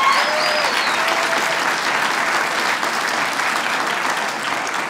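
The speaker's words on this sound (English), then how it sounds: "married people, clap your hands." Married members of a comedy-club audience clap their hands at a stand-up show, loud dense applause filling the room steadily and easing slightly toward the end.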